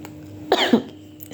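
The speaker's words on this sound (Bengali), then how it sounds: "সরি কাশি উঠছে" Two quick, sharp coughs sound close to the microphone, one right after the other, against a quiet room background.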